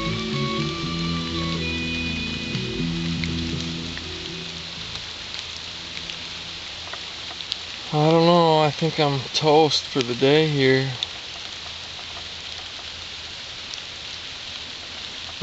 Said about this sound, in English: The rain let up a little bit, but it got darker and now it's starting to pick up again